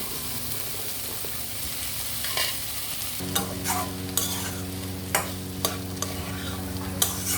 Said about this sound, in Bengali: এবার ছোলা সিদ্ধটার সাথে মিক্স করে দেব।